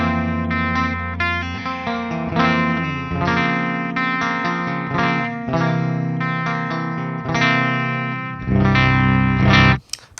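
Ibanez electric guitar through an amp on a clean setting, chords ringing out continuously and loudly with effects-laden sustain, before a short final strum and a cut.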